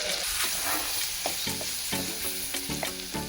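Whole garlic cloves, about a hundred grams, frying in oil in a prawn pickle pan, giving a loud, constant sizzle broken by repeated scraping stir strokes near the end.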